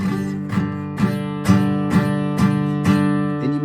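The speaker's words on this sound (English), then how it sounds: "When you're first learning the guitar and you're first playing chords, it's going to sound like this." A beginner strums a guitar chord slowly and repeatedly, about eight even downstrokes with ringing overtones, the chord buzzing slightly and unsettled.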